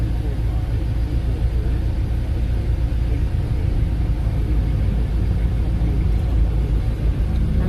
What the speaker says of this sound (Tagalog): Napaka-traffic po.